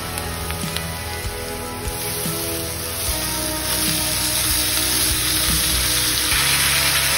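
Tomatoes dropped into onions frying until reddish, a steady close sizzle with a few clinks that swells louder and fuller in the second half.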